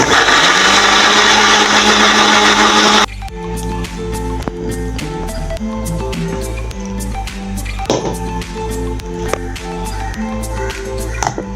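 A kitchen mixer grinder whirs loudly and steadily while grinding ingredients for about three seconds, then cuts off abruptly, leaving tonal background music with light tapping sounds.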